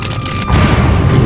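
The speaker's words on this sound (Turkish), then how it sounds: "depoda bulunan mühimmatlara ulaşan yangın büyük bir patlamaya daha neden olur" Ammunition stored in a burning factory depot detonates in an animated scene, a loud, sustained low boom swelling up after a brief rumbling lead-in and rolling on for about a second.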